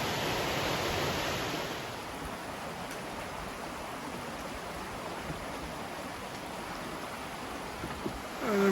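Steady broadband rush of a creek flowing beside a hiking trail, constant and fairly close, with the rushing water filling the whole stretch and a brief louder knock near the end.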